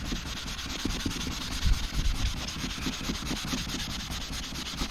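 A cleaning pad rubs hard over a stained leather car seat, giving a steady, close scrubbing sound with quick back-and-forth strokes that continues unbroken throughout.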